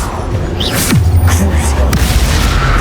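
Confringo explosive spell blast in Hogwarts Legacy, a single loud booming impact with a deep rumbling tail, set over steady background game noise.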